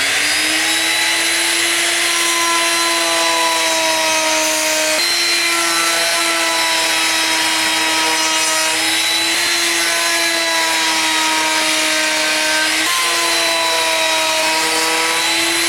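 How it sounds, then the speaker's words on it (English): A router table whines steadily at a high pitch while cutting wood with an aggressive bit, loud and continuous throughout with only slight dips in tone. "use it when you use this router table because that bit is so aggressive, it spits wood chips everywhere"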